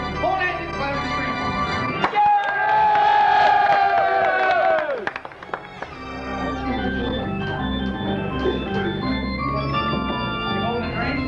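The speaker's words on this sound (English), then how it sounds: "Going at you, clap, and scream" A group of people claps and screams in unison on cue during a practice session, loud and close for about three seconds, then it fades as music with a tonal melody carries on underneath.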